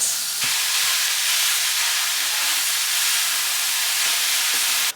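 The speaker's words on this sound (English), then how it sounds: "I'm gonna fry up the rest of it tonight" Ground beef frying in a pan with onions, a steady broadband sizzle and hiss filling the whole span, close and loud with a faint low hum underneath and a few small clicks.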